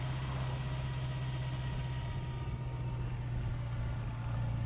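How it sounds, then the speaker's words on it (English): A 1973 Honda CB750 engine purring steadily in fifth gear, a low, even drone under constant wind and road noise with no break. "the other thing to notice is how tractable the engine is. It just purrs along in 5th gear"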